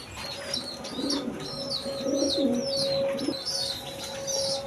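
Pigeons at a breeder's loft selling breeding pairs coo in soft, repeated low murmurs, with other birds chirping brightly overhead and a steady tone running through the background.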